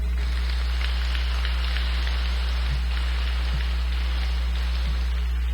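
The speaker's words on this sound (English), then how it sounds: "One big round of applause for all our contestants this evening." Steady applause from an audience at a county 4-H fair pageant for all the contestants, a dense continuous patter of many hands at moderate distance, unbroken for the whole stretch over a low electrical hum.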